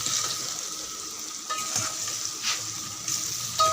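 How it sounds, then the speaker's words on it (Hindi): Onions fry in a pan with a teaspoon of salt, giving a continuous soft sizzle. Short stirring bursts and scrapes arrive every second or so near the end. "मैं प्याज को फ्राई कर रही हूँ।"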